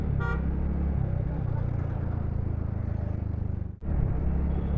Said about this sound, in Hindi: भाई इतना हॉर्न मारता है कहाँ पे जाएगा ये स्कॉर्पियो लेके?